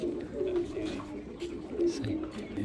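Pigeons, a newly paired couple bought from Karachi nets, cooing in low repeated throaty calls at close range, with faint background voices and ambient noise.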